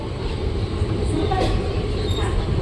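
Close rumble and clatter of a train from Veraval rolling into Dhasa railway station, steady and loud, with faint voices nearby.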